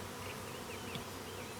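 A swarm of bees hums in a dense, steady buzz, faint and continuous, during a brief moment of capturing the swarm in a bee trap.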